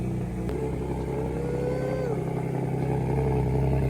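Turbocharged 800 hp Infiniti G37 engine idling loudly nearby, a steady throbbing rumble with a slight pitch shift as revs dip and settle.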